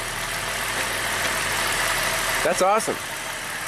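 A GM V6 engine idles with an uneven, loping rhythm, a steady low rumble running close and throughout while a person briefly speaks near the end.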